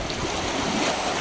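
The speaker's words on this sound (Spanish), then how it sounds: "El río Uruguay acá con toda su fuerza." The Uruguay River rushes along the riverside promenade at Fray Bentos in a loud, steady broadband whoosh of flowing water mixed with wind buffeting the microphone.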